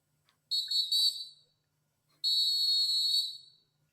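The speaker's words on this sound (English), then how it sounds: "Let's get the whistle." A referee-style whistle is blown to start a game, sounding two long, shrill blasts separated by a short pause against a near-silent background.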